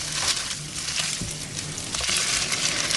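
Chicken blood being stir-fried in a pan for a bean sprout dish, a loud continuous sizzle with scraping spatula strokes and small clinks breaking through the frying hiss.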